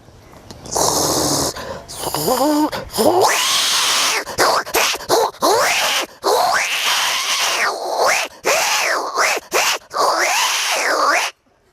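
A person mimics two cats fighting, with wailing yowls, snarls and hissing spats in rapid, loud, close bursts that rise and fall for about eleven seconds.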